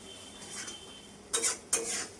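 A spoon scrapes and clinks through pointed gourd mash in a pan, with two distinct bursts of stirring after a quieter stretch, close and alone.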